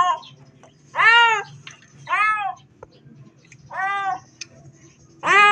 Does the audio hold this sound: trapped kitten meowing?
yes